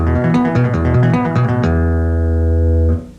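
Electric bass played with a two-handed tapping technique in a slap, pop and tap lesson: a quick run of doubled tapped notes, then one note held ringing for over a second before cutting off.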